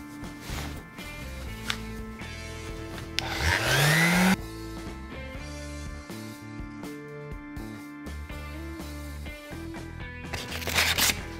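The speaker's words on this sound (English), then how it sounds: "final sanding here." Hand sanding of simple wooden shelves built for PC speakers: a brief burst of rough, scratchy abrasion against wood, close and moderately loud, with quieter shop noises and handling sounds before and after, no talking.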